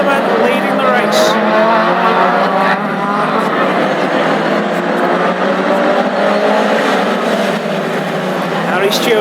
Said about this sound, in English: Hear the whine of the crossflow from the 966 car